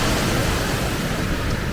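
Surf rolling onto a beach in Penang, a steady broadband wash of breaking waves with a windy edge, continuous and fairly loud with no voices.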